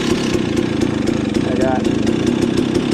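A heavily upgraded 300 XC two-stroke dirt bike engine idles close by with a rapid, uneven popping pulse, and a voice speaks briefly over it.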